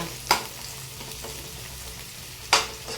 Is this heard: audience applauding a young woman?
no